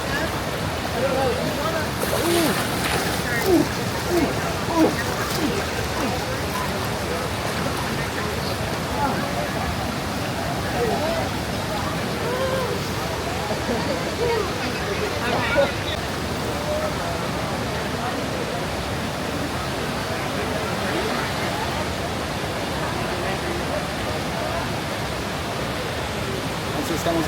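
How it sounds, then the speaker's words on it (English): Waterfall in a Costa Rican rainforest, a steady broadband rush of falling water heard close and continuous throughout, with a person talking faintly over it. "Aquí is a cascada or waterfall. The big waterfalls over here, this side"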